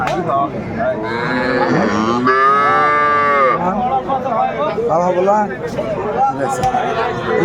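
Cows and calves moo loudly and repeatedly close by at the Aftabganj livestock market, with long drawn-out calls over a busy background of crowd chatter.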